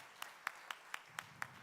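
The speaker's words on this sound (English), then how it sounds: "please give yourselves a big hand" Faint, evenly paced claps, six sharp slaps about a quarter second apart, from an audience in a conference hall at a tech innovation conclave.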